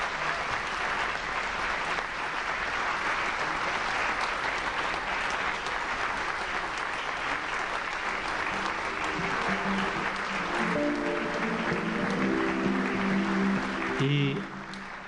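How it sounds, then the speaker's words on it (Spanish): A crowd at a Spanish-language book presentation applauds a priest, with steady, sustained clapping that fills the room for about fourteen seconds before fading out at the end. "le brindemos nuevamente un fuerte aplauso al Padre Camilo"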